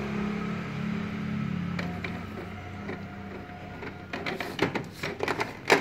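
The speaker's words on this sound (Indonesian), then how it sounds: "Saat kita melakukan print nozzle," A Canon IP2770 inkjet printer runs a nozzle check print: a steady mechanical hum first, then rising clicks, clacks and carriage rattles growing busier and louder toward the end, nearby and with no speech.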